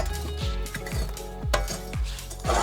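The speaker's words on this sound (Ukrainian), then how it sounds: "Рівняємо вугілля." Charcoal being raked and leveled in a barbecue grill before cooking beer ribs, with repeated scraping and clinking strokes in a steady rhythm, close and fairly loud, no talking.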